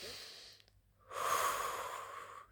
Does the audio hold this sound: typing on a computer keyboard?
no